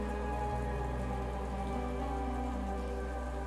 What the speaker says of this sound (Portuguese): a capital principal de Tarin, aonde a chuva nunca acaba